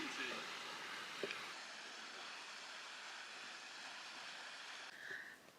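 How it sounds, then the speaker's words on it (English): A tall waterfall in Flores roars as a steady, broad wash of falling water, with no breaks across the whole stretch and a brief soft voice near the end. "This is the tallest waterfall we've been to."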